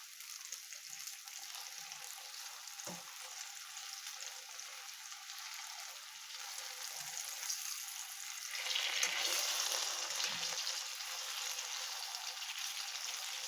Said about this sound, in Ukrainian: і смажимо з іншої сторони.